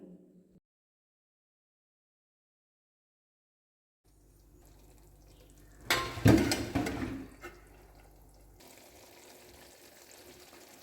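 Banana flower palya cooks in a pan. After a silent start, a low simmer rises, a loud burst of bubbling and stirring follows, and then a steady soft hiss. Nobody speaks.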